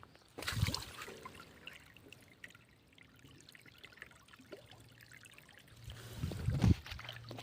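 Water trickles and streams quietly from a valve opened on a farm, with a louder gush and splashing at the start and again near the end, no talking.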